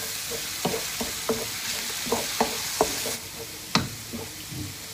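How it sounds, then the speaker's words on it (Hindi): Mutton slowly pan-roasted over a low flame with ginger for Pathani namkeen gosht, a soft continuous sizzle punctuated by about eight separate spatula scrapes and knocks, nearby with no talking. "ये आहिस्ता आहिस्ता इसको भून रहा हूँ।"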